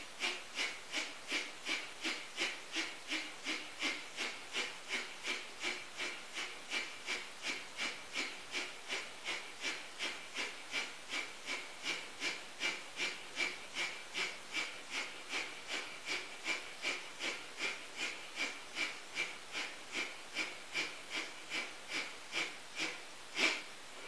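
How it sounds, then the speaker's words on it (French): Rapid, rhythmic breath-of-fire breathing from a Kundalini yoga exercise: steady, even, forceful nasal exhalations repeating about twice per second for the whole stretch, close and breathy, with no talking. "Avec la respiration du feu"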